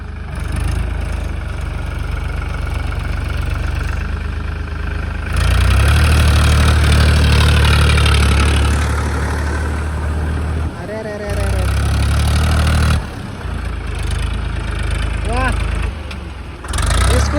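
A tractor engine runs steadily at close range in a dusty riverside setting, its low rumble swelling louder midway, while people talk over it.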